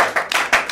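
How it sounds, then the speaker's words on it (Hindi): At a film launch ceremony for a Bhojpuri movie, an audience claps in quick, close bursts, with about three sharp claps in under a second. "तो मैं सुरेंद्र मिश्रा जी के भी तालियां चाहूँगा आपसे,"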